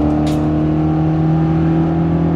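A Ford Escort RS1800 engine idles, then revs hard as the car pulls away, a loud, steady mechanical roar that stays close throughout.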